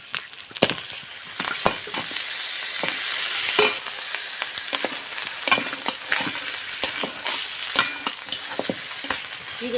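Mutton paya sizzling and frying in a pan with chopped garlic and ginger, a steady bright hiss broken by frequent stirring scrapes and pops, close and fairly loud with no talking.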